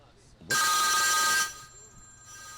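Telephone bell ringing with an incoming call, one loud steady electronic ring lasting about a second, then a fainter tone, with quiet talk around it.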